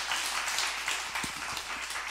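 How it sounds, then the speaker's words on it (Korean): A church congregation applauding during an evening revival service, a steady wash of many hands clapping together, fairly distant and even throughout, with no talking. "우리 박수 한번 쳐줘요."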